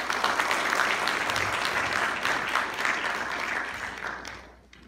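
An indoor audience at a seminar on building structural codes claps steadily for several seconds, and the applause fades away at the end.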